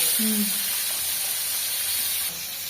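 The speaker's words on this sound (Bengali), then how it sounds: "এই দেখো বন্ধুরা কড়াই গরম হয়ে গেছে, আমি মাছ দিয়ে দিচ্ছি।" Rohu and silver carp pieces fry in a hot wok in a Bengali village kitchen, giving a steady, even sizzling hiss that runs unbroken from start to finish, with a faint short tone near the beginning.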